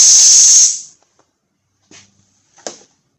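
A compressed air blower gives a loud, sharp hiss that lasts under a second and trails off, followed by two brief, faint puffs of air.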